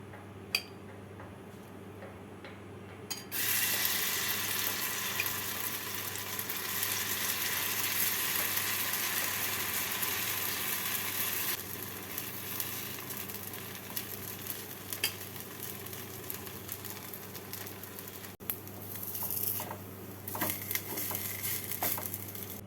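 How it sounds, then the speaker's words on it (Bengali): Continuous sizzling of semolina chila batter frying in a hot pan, swelling louder after a few seconds and staying steady, with occasional light clicks. "আর একটা ভেজে আমি দেখিয়ে দিচ্ছি"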